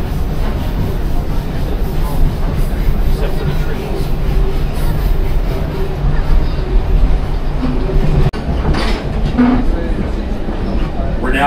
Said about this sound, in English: you should be able to see the entire train negotiating the curve